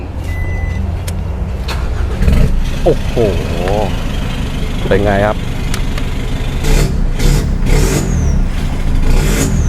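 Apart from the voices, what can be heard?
pickup truck exhaust revving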